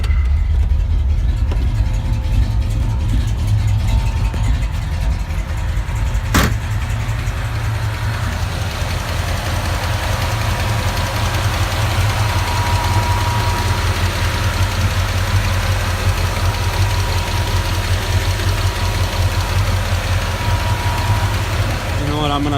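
A 1965 Ford Ranchero's engine idles steadily up close, a continuous low rumble with a faint knocking texture running the whole time, and a brief sharp click partway through.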